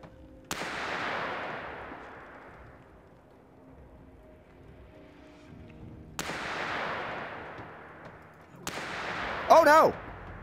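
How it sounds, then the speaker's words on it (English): Three loud, sharp gunshots in the war survival game This War of Mine, each a sudden crack with a long rolling echo that fades over several seconds; the last is followed by a short harsh burst. "we're trying to go between shots"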